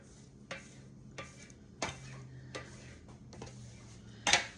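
Dumpling dough is scored with a spatula or knife on a hard surface, giving about six sharp, faint clicks and taps spaced irregularly, with a brighter metallic clink at the end.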